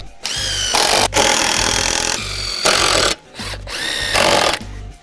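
A power drill drives screws into wooden brackets on a DIY gym bench, whining loudly in several long bursts separated by short pauses, close up with no talk.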